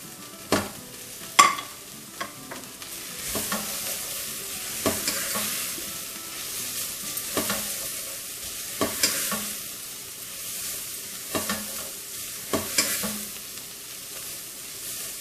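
Dry spices being stirred in a hot frying pan, with a soft continuous sizzle broken by repeated scraping clicks of a utensil against the pan.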